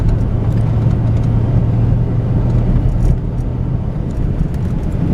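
Car cruising slowly along a rural dirt road, a steady close engine hum and tire rumble with a low droning tone, intermittent faint rattles and crunches over the top, no voices.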